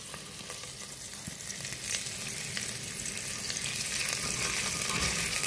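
Onions sautéing in a pan for chicken spring rolls, a steady dense sizzle and crackle with occasional stirring scrapes, close and continuous with no talk.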